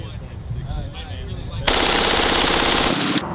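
Full-auto fire from a select-fire IWI X95 rifle: a loud, sustained burst of rapid shots lasting over a second, preceded by low rumbling background noise.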